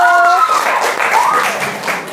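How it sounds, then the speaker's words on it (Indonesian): Students in a ninth-grade science classroom clap for the first group, a short burst of applause from a room of pupils mixed with voices and chatter. "tepuk tangan untuk kelompok 1"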